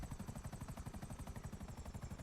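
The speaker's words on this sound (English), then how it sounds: "we have another helicopter, but it's more of like a military style helicopter" A military-style helicopter in FiveM (GTA) thumps with fast, regular rotor beats, a steady pulsing chop that sounds close and constant, with no voices.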